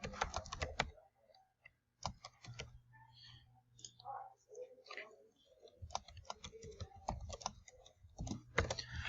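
Bursts of crisp, close computer keyboard typing and mouse clicks in OneNote, separated by a quieter stretch of softer clicks and rustle, with no voice.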